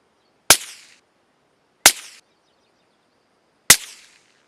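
Three sharp .22LR rifle shots fired with open sights, spaced about one to two seconds apart, each a loud crisp crack with a short decaying tail, the round striking a wooden post holding the target, outdoors with no talking.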